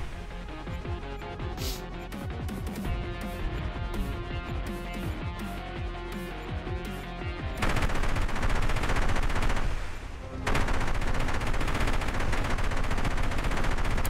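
A helicopter's autocannon in a video game fires long rapid bursts, loud and dense throughout, with a brief dip in intensity before the heavy fire resumes.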